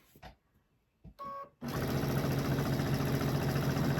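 A sewing machine stitches across a placemat with a back tack. A few short, quiet mechanical bursts come first, then a loud, steady, continuous whir of stitching, close and alone.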